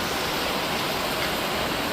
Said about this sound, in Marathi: तर पाऊस बघा अजून पडतोय